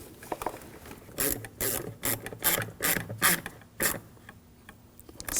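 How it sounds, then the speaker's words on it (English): Ratchet tightening the hose clamp on the air intake of a 2007-2013 BMW 328i 3.0L inline-six, a series of close, rhythmic rasping clicks in repeated strokes, fading to lighter ticks at the end. "tighten down the clamp"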